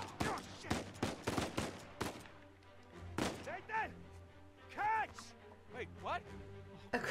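Gunfire in Uncharted 4 comes as a quick burst of sharp shots at the start, followed by scattered thuds and impacts, with people talking over parts of the sequence.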